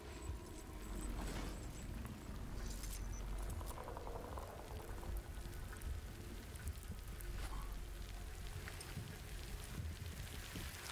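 Timefall rain in the video game Death Stranding: a steady, dense hiss of falling rain with a bubbling, boiling-like texture that carries on unbroken throughout, fairly close and even in level, with no talk.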